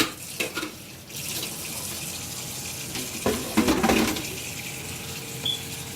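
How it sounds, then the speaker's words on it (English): Cold tap water runs over strained noodles in a kitchen, a steady close rush of water that splashes louder for a moment partway through. "run it through nice cold running water to stop the cooking."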